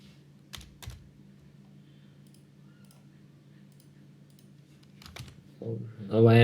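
Keys clatter on a computer keyboard in short bursts, light clicking taps over a low hum, with a voice starting up near the end.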